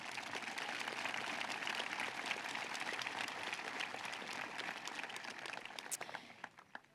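Applause from the crowd at a high school graduation ceremony, a dense sustained wash of many hands clapping, fairly distant and steady before thinning out and fading near the end.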